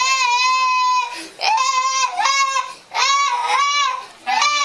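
A young child cries in repeated wailing bursts separated by short gasping breaths. The crying is loud and close.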